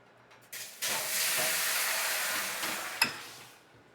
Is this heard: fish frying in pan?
yes